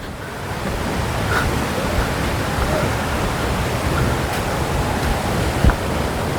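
Broad, steady rush of Mashenu Loddi Waterfall falling over sharp rocks roars continuously, loud and close, with a brief knock near the end.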